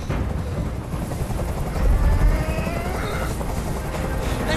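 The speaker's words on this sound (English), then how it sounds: "Tell that helicopter to get out of here." A helicopter hovers overhead in the video game Detroit: Become Human, a dense, loud rotor thrum and rumble that swells slightly midway and continues without letup, with no speech.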